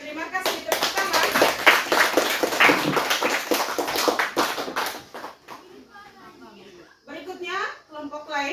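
A classroom of students claps together during a Catholic religious education lesson: a dense burst of hand claps for about five seconds, followed by a voice talking alone.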